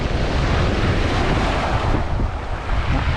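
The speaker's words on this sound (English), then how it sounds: "As long as this wind keeps up, breeze keeps up" Strong wind gusts past the microphone at Paradise Falls, a waterfall, making a loud, continuous, broadband roar with no pauses and no voices.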